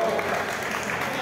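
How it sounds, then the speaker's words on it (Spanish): A crowd at a live J-music cover concert applauds in a dense, continuous patter, with a voice audible over the clapping for most of this short burst. "Un aplauso para vos."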